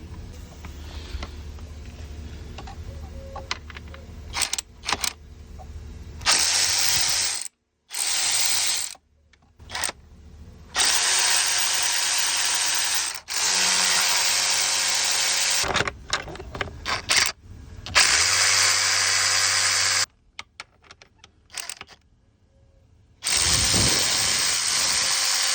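A power tool removes the flange bolts from a pool pump motor. Loud ratcheting, whirring bursts of varying length repeat close up, broken by short silent gaps, with no talking.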